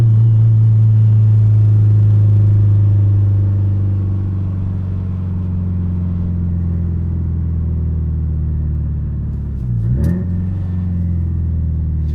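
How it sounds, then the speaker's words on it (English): A car engine drones in a loud, steady low rumble, then briefly dips and climbs again near the end as it downshifts into second gear. "I downshifted into second gear."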